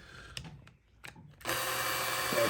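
Power drill driving a normal woodworking screw into a wooden backboard: a few light taps and clicks, then a steady whirring drill run that holds to the end.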